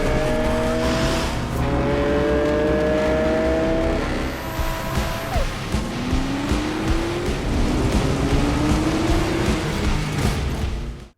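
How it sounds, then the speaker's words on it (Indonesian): Racing cars speeding in a street race in a film scene, loud engines revving and shifting through rising pitch sweeps with passing roars, continuous and close. "Mereka saling beradu kecepatan menunjukkan mobil siapa yang paling kencang"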